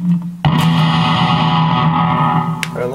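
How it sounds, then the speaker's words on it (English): A Fender Mustang I amp's '63 reverb setting colours an electric guitar: a sharp strummed attack opens into a sustained, slightly distorted chord that rings with bright reverb tail, loud and close. "And you have a 63 reverb,"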